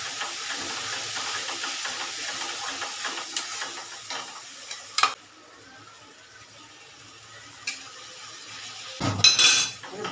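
A spoon stirs a pointed gourd curry in a pan after water is added, with steady hissing and sizzling steam, occasional sharp clinks against the metal, and a louder scrape near the end.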